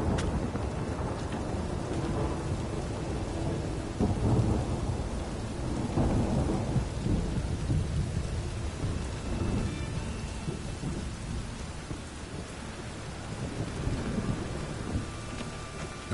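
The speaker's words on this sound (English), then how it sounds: "A storm, damn it." Video game thunderstorm with steady heavy rain and repeated deep rolling thunder, a dense continuous wash of rainfall close around the listener, with no talking.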